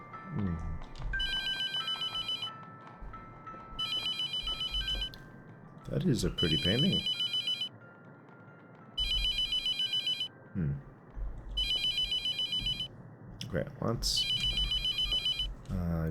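A phone rings inside the horror game The Mortuary Assistant with repeated electronic bell bursts separated by short gaps. Someone talks quietly between and under the rings.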